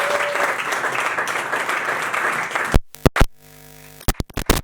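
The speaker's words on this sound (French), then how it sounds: "Est-ce qu'on peut applaudir pour eux?" A church congregation breaks into sustained applause, a dense wash of clapping that carries for nearly three seconds before cutting off into scattered bursts and short pauses.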